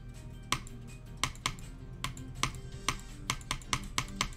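Keys are pressed on a computer keyboard while a player races through Geometry Dash-style levels: about a dozen sharp, faint clicks in an uneven rhythm over a low steady background hum, with no talking.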